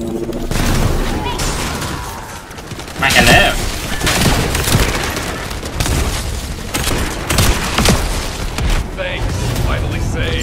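Rapid gunfire and booming blasts fill a firefight in the video game The First Descendant, with dense, loud bursts of shots rolling continuously while players talk over the action.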